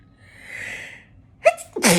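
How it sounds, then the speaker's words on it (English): Close, loud human sneeze: a quick sharp intake of breath, then one forceful burst of sneezing. It follows a stretch of soft, airy breathing. "Oh, I'm about to sneeze."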